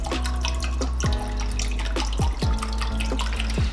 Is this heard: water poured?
yes